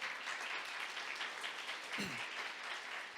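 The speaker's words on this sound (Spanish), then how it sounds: "¿Cuántos le dan un aplauso al Señor?" A church congregation claps steadily through the whole stretch, dense and even applause with one brief low thump midway.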